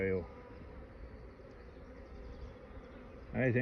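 Honey bees humming steadily inside a hive, a dense continuous drone held close throughout, with brief talk at the very start and end.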